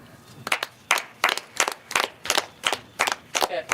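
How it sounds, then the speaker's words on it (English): About a dozen sharp, evenly spaced claps ring out close by, a rhythmic clapping from people at a live high school football broadcast, each clap crisp and separate. "Even though it's not your team, you can still stand up and clap."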